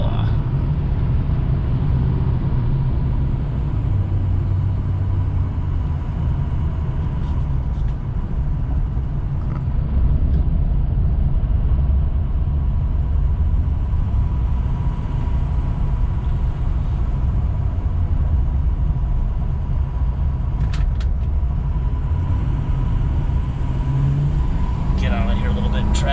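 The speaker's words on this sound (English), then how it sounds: "we're in traffic" A 2006 Ford F250 Lariat 4x4 pickup with a 6.0 diesel engine rolls through traffic, its low steady engine rumble and road noise continuous throughout, with a person talking over it.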